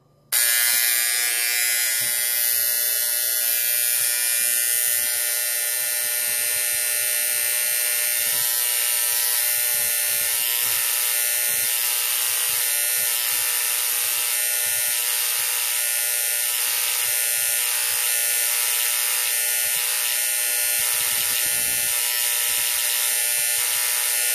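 A loud, steady high-pitched electric buzzing runs continuously as an engraver marks grade 3 steel chain up close.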